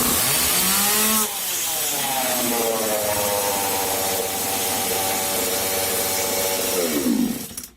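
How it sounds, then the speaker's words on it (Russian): A Stihl chainsaw catches on a pull start and settles into a steady medium-rev run, its engine note rising and then holding level for several seconds before dropping away at the end; loud and close, with no voices. "сейчас у нас пила должна завестись на средних оборотах"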